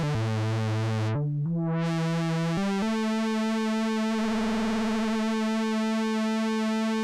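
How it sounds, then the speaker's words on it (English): Behringer 2600 synthesizer oscillator with its pulse width being modulated, a sustained buzzy tone stepping through a few pitches before a slow phasing sweep, loud and alone with no voices. "So by doing so, you get this classic pulse width modulation sound."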